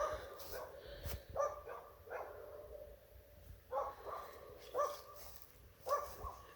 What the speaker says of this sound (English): neighbor's dogs got to start yapping